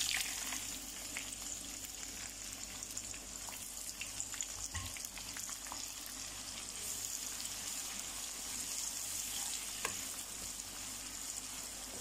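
Chopped onions fry in oil in a pan for aloo bhujia, cooked only to a light pink, giving a steady, close hiss and sizzle that runs unbroken with no voices.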